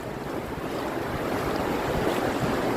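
Steady broadband rush of whitewater during rafting on the Mo Chhu in Punakha, Bhutan, a continuous churning roar with wind buffeting the microphone and no voices.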